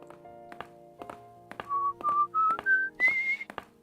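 A character in the visual novel White Album 2 whistles a short rising tune of clear held notes, close and alone, with soft taps and thunks around it.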